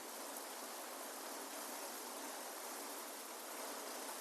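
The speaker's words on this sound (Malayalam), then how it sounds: "പച്ച വെളിച്ചെണ്ണ ഒഴിക്കാണ്" Raw coconut oil is poured into a finished Kerala fish curry, giving a steady, even hiss like running water that holds at the same loudness throughout, with no voices.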